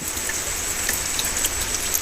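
Steady rain falling on a Thai mixed farm, a continuous close hiss with scattered drops and no talking.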